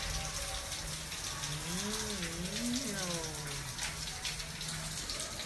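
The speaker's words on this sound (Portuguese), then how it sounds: "Eita, olha que chuva! Rapaz, lá fora, ó!" Heavy rain falls outside in a dense, steady hiss of drops hitting surfaces, continuous throughout, while a voice calls out briefly over it.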